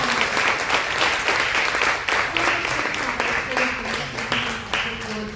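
Applause from a town hall audience thanks a panel of speakers at an education event, steady and fairly full, with some voices and chatter mixed in beneath the clapping.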